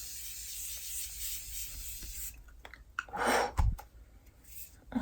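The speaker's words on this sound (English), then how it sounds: "I'm just gonna give it another spray." A makeup setting spray hisses in a fine pressurised mist for about two seconds, followed by soft rustling and a brief breathy burst close by, with no talking.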